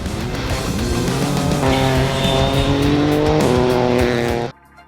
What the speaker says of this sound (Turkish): ilk defa kullandıkları Rally 3 otomobiliyle İspanya'da tozu dumana kattı